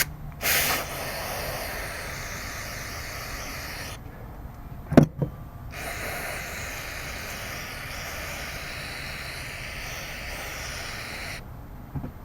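Carburetor cleaner sprayed in long, steady hissing bursts, one near the start and another through much of the middle, close and fairly quiet, with a brief sharp knock between them.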